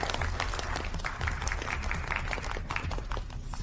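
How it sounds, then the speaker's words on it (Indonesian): Audience applause as a group heads onto a stage to present a proposal, a dense steady wash of clapping throughout with a low rumble beneath. "mari kita berikan tepuk tangan untuk grup Feng naik ke panggung memperkenalkan proposal mereka"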